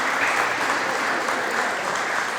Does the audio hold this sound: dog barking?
no